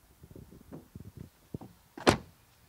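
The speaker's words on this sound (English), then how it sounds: "Key is entry, put your hand on the outside or on the inside, and the door closing sound." A Mercedes SUV door shuts with one solid, muffled thunk near the end, preceded by a series of soft clicks and handling noises from the door and latch.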